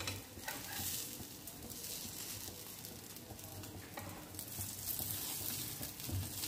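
A beetroot cutlet fries in a pan with a continuous close sizzle and faint crackling that stay steady throughout, with no talking.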